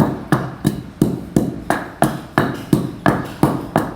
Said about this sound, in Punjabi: ਅਨਾਰਦਾਣਾ ਜਿਹੜਾ ਇਹ ਕੁੱਟਿਆ ਨਹੀਂ ਜਾਂਦਾ ਛੇਤੀ ਵੀ ਇਹਨੂੰ ਆਪਾਂ ਪਹਿਲਾਂ ਕੁੱਟਾਂਗੇ